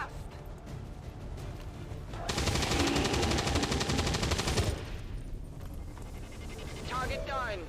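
A sustained burst of rapid automatic gunfire rattles for roughly two seconds in a squad-based shooter video game, loud and dense, with quieter game ambience before and after.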